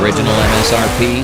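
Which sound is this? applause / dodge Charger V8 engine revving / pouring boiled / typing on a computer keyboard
dodge Charger V8 engine revving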